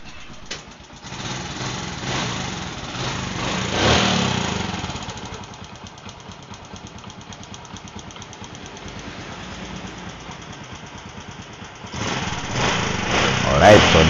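A small engine just after a tune-up runs steadily with a buzzy, high-pitched drone, swelling in revving bursts near the start and again toward the end.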